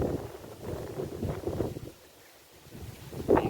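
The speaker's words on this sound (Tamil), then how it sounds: "நல்லா காற்று ஜெல்லுன்னு அடிக்குது" Wind gusts across an open garden near the foothills, buffeting the microphone in low rumbling surges that drop away briefly before another gust hits.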